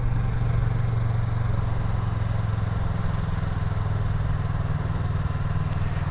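A Yamaha MT03 motorcycle is ridden home by a first-time rider, its engine giving a steady low drone blended with wind rush, close and constant throughout.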